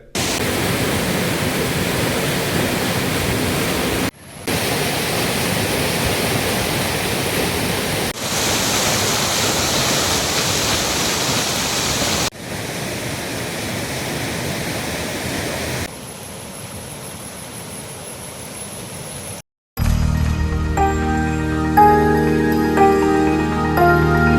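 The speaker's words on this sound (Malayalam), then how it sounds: "കോൺക്രീറ്റിനു വേണ്ടി കെട്ടിയ കമ്പികളോട് ചേർന്നാണ് ഇപ്പോൾ വെള്ളം ഒഴുകുന്നത്" A flooded, overflowing river rushes past the reinforcing rods of a bridge under construction at Thayyur Alikkal Chira, a loud, steady roar heard in several cut segments and followed by music.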